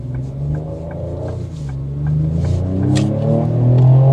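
The engine of a 2025 Ford Explorer ST rumbles and climbs in pitch as the SUV accelerates, growing louder over a few seconds of rising, continuous revving heard from inside the cabin.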